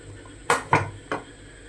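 A pressure cooker lid being opened after the whistle is taken off, three distinct metallic clanks in quick succession, close and fairly loud, with no talking.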